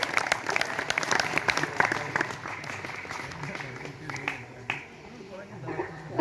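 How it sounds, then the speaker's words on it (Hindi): An audience claps steadily for several seconds, then the applause thins out and fades, with a few scattered claps near the end. "तो आप सभी के जोरदार तालियों के बीच हम आमंत्रित करते हैं सावित्री जी आए और हम सभी को उद्बोधित करें।"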